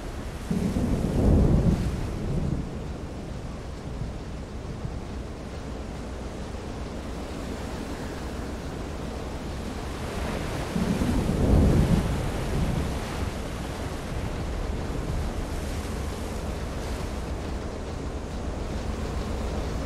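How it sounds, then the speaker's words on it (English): A stormy sea in the submarine game Silent Hunter 3 rolls on as a constant wash of surf and wind noise, with two louder surges of crashing waves or thunder rising out of the steady roar. "The weather is poor, the storm is approaching, but the waves are not too high yet"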